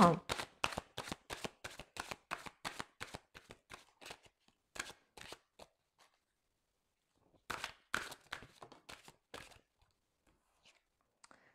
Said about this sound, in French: on va maintenant recouvrir avec des cartes de l'oracle des miroirs